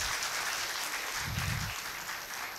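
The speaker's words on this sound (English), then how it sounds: "So should we have a big round of applause for that?" A conference audience at a teachers' gathering in a hotel venue claps briefly together, a short burst of moderately loud applause.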